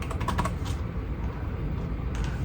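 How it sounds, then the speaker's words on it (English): Quick keystrokes on a computer keyboard while a search term is entered in Unreal Engine 5, a short burst of close, soft clicks that thins out after the first second over steady low background hum. "type in Supergrid."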